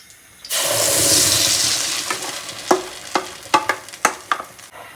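A sudden loud sizzle as blended jackfruit pulp hits hot ghee, settling into steady frying, then a series of sharp scraping stirs near the end.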